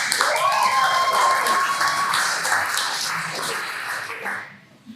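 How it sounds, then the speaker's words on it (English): A grad show audience claps in a dense, sustained burst of applause that fills the room, holding steady before thinning out and fading toward the end. "Let's give them a round of applause to begin"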